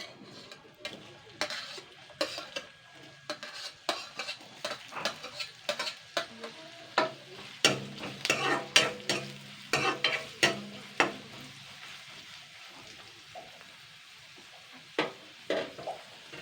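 Whole cumin seeds and peeled onion frying in hot oil, with a low sizzle under frequent sharp spoon scrapes and clinks against the pan, irregular and close, busier in the middle.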